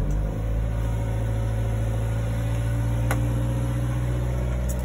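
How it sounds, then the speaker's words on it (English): Kei truck engine running just after a cold start from its keyless start button: a steady, close, low idle drone with an even throb, holding constant throughout with no speech. "And that's a real cold start."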